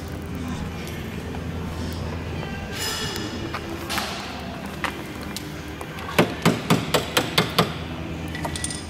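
A steel punch is struck with a hammer during aircraft nose gear steering service on a Bonanza: a run of sharp metallic blows, close and loud, with about six evenly spaced strikes near the end over a low background.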